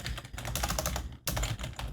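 Fast typing on a computer keyboard, a dense run of close, crisp key clicks with one short pause partway through.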